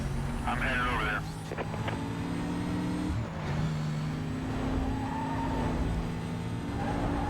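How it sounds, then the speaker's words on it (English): Mazda RX-7 FD engine in the 2005 PS2 racing game Need for Speed: Most Wanted, a steady droning engine note with shifting pitch and brief changes as the car drives, while someone talks over it. "This car actually sounds quite similar to another one, I think, in terms of its engine note."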